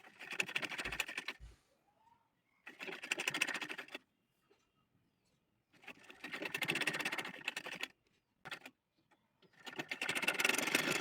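A sewing machine stitching a baby frock of voile fabric runs in short bursts of rapid, even mechanical chatter, separated by quiet pauses.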